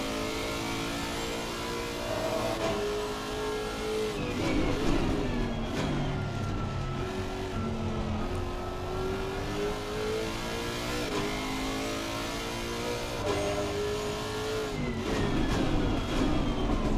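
A car engine revs and shifts through gears in a racing video game played on a GameSir Tarantula Pro controller, rising and falling whine sustained over continuous road noise, close and steady without talk.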